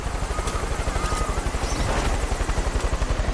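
A helicopter in the video game Far Cry 5 beats out a fast, regular rotor thump under a loud engine whine, close and continuous with no talking.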